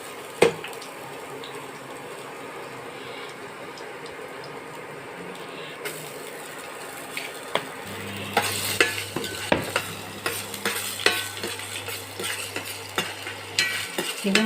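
Ginger and garlic frying and being stirred in a pan for a Kerala fish curry, steady sizzle throughout with scraping stir strokes growing busier and louder in the second half, no talking.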